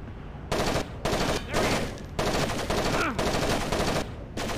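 Rapid automatic gunfire from Rainbow Six Vegas on the PSP plays in loud sustained bursts separated by short pauses, with a brief ricochet-like whine partway through.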